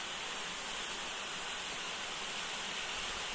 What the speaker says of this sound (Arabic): هنا هذا هو الشلال كيف كتشوفوا